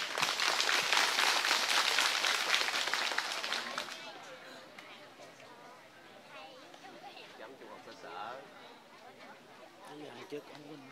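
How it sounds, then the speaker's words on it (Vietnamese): A school crowd at a Phú Cần A primary school contest gives loud sustained applause for about four seconds, then it fades into murmuring chatter and scattered voices. "Xin chúng ta hãy chào đón ban giám khảo một tràng pháo tay thật to đi ạ."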